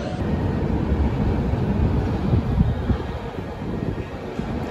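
Strong wind roars steadily across the microphone outdoors at Luneta in Manila, a loud continuous low buffeting rumble with no pauses.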